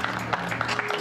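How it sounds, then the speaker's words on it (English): Scattered clapping rises for the first two boxers, Angel Rushton and Nadia Flahi, at a weigh-in, a brief loose patter of hands from a modest crowd. "Round of applause for our first two fighters"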